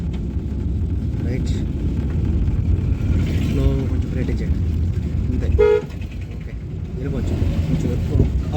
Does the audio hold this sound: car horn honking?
yes